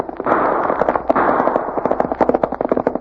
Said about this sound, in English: That sounds like a regular gun battle.